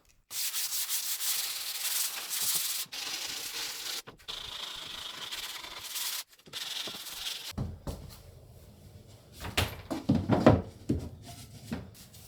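Sanding wood, loud continuous abrasive rubbing in long strokes with brief pauses, then quieter scraping and knocking toward the end.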